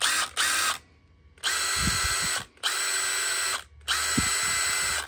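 A Makita subcompact cordless saw on a 1.5Ah battery runs up in three close, steady bursts of high motor whine, each about a second long and separated by short pauses, with no talking.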